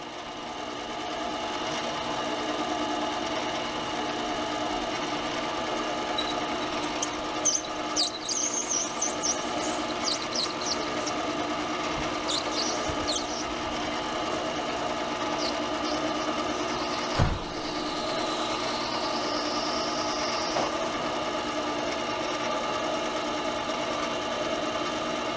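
Lathe cutter taking the minor diameter of a thread on a telescope part hums steadily with a machine drone, broken by squealing and scraping bursts and one sharp knock partway through.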